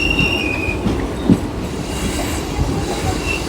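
Salasar Express train rolling through a curved stretch near Ladnun station, wheels grinding with a steady high squeal over a continuous low rumble of the carriages, close and alone.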